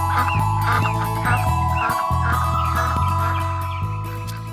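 A goose honks repeatedly, a run of loud, close, nasal calls in quick succession with a brief pause midway, heard alone without talk.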